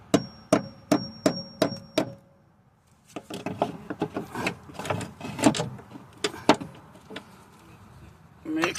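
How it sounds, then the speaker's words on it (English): Sharp hammer taps on a brake hose retaining clip during front brake hose replacement on a 2015 Chevrolet Captiva Sport, a quick run of about six evenly spaced knocks, then a pause and a looser burst of metallic taps. "Once you put the clip, you have to tap with a hammer."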